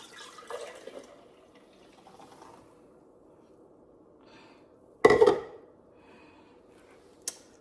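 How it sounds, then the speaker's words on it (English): A short burst of oat milk pouring and splashing from a machine spout into a container, preceded by faint clinks and quiet handling noises, with a small tap near the end. "Close the spout, pour it up."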